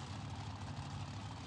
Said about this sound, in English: Yeah, engine sounds good.